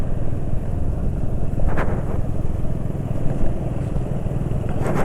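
A motorcycle engine idles at low RPM, a steady close rumbling drone with an even throb and a couple of faint brief clatters, no talk.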